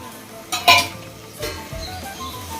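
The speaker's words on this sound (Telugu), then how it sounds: "తిప్పుదాం బెల్లం వాటర్లో, ఇలా తిప్పుకుంటే బాగా కరగనిద్దాం." Jaggery being stirred into boiling water in a pot, heard as a couple of close scraping and clinking stirs with a soft bubbling hiss between them, with no voices.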